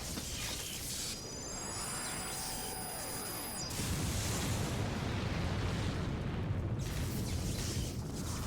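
A loud, sustained explosive roar with rumbling bursts in a video game, preceded by a rising whine, continuing for several seconds.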